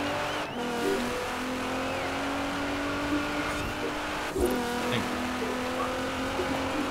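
Stock Black Edition car racing in the video game Forza Horizon, a steady engine drone with gear shifts and brief tire squeals, revving up and down continuously and fairly loud throughout.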